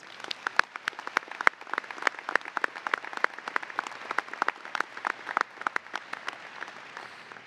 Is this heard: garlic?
no